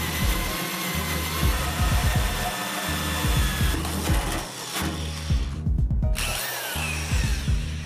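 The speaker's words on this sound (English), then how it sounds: "Anytime you're drilling metal, it's a good idea to put a little oil on there." A power drill bores a hole through a metal box, the bit oiled for lubrication, in loud close bursts of grinding whine broken by short pauses.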